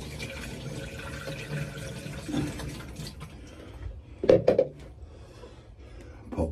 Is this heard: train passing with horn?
no